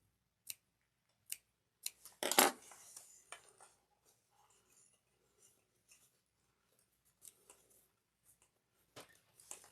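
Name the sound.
scissors snipping into fabric seam allowance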